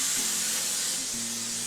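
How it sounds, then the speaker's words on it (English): Cooking spray hisses onto a baking pan in a home kitchen as one continuous, close spray burst that lasts the whole moment, with a faint tonal hum underneath. "my mom's just going to quickly spray the pan so it doesn't stick"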